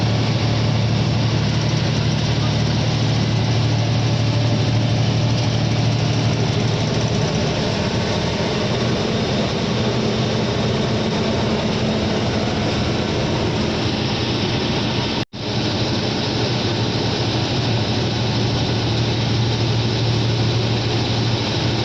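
A vehicle's engine idles steadily after stalling partway up a climb, a loud, continuous low rumble with constant vibration and one brief dropout, no voices.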